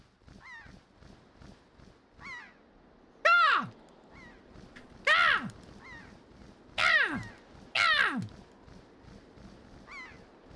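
Birds call in The Legend of Zelda: Wind Waker, with four loud, clear, descending cries standing out over a soft, rhythmic ambient background and fainter repeated chirps.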